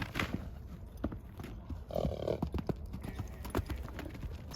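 Horse hooves clip-clop steadily on the ground, fairly close, with a brief snort or low vocal sound partway through and no talking over them.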